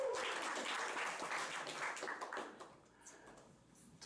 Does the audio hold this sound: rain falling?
no